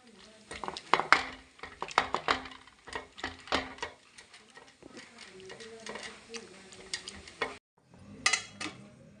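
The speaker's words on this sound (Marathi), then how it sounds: "आता आपण जी भाजी शिजवून घेतली ती मॅश करून घेऊया" Cooked vegetables being mashed for pav bhaji in a pan, heard as a steady run of sharp clinking and tapping knocks of a masher against metal, fairly close, with brief pauses.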